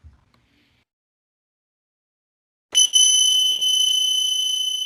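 A bright metal bell is struck to cleanse and charge crystals, ringing out suddenly after near silence and sustaining with a clear shimmering tone, struck again briefly before fading slowly, with no talking.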